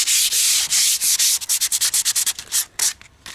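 Hand sanding of bare timber on a balustrade, loud close rasping strokes in a quick back-and-forth rhythm that speeds into short choppy passes before tapering off, no talking.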